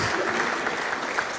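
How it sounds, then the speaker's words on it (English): A brief burst of steady audience clapping at a ROSCon 2015 conference talk in Hamburg, dense and even throughout. "That should get a round of applause"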